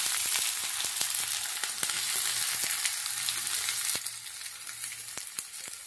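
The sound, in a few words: chopped onions frying in mustard oil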